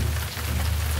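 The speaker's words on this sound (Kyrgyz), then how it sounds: "Ошентип топон суу башталды." Heavy rain pours down at the start of the great flood in an animated Bible series about Noah. It is a dense, steady hiss of downpour with a low rumble beneath, continuous and close, with no voices.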